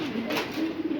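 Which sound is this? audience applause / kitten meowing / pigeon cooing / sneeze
pigeon cooing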